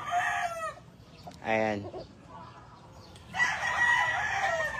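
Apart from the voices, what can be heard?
rooster crowing, Kelso gamefowl breed on farm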